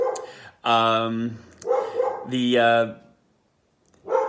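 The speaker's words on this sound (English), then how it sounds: "Hold on, my dogs are going to bark now." Dogs giving several long, loud, drawn-out barks or howls in bursts separated by short pauses, with quiet gaps between them.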